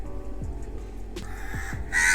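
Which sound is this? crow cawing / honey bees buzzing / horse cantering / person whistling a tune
crow cawing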